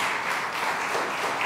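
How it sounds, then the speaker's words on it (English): A church congregation claps together in praise during a service, with dense, steady applause filling the room for the whole moment without a break. "we're offering praise to God through clapping today for those who are in our midst"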